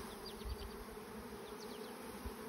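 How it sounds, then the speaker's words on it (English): Honey bees buzz steadily and close during a hive mite check, a dense droning hum with occasional individual bees whizzing past. "Let the older bees kind of fly off a little bit."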